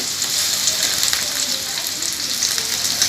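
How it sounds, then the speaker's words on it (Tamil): Ginger garlic paste sautéing in a pan for a sea crab gravy gives a steady, close hissing sizzle that holds evenly for the whole stretch with no break. "இஞ்சி பூண்டு பேஸ்ட்டு போட்டு வதக்கி"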